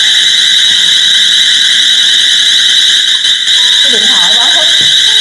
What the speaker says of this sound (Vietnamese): Chị nói quá mà còi nó hú rồi kìa.